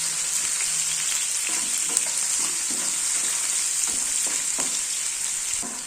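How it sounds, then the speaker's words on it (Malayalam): A ripe mango pickle mixture sizzles and fries in a pan, a steady close hiss broken by scraping stir strokes as it is sautéed. "ഇനി ഇത് നന്നായി ഒന്ന് വഴറ്റി കൊടുക്കുക."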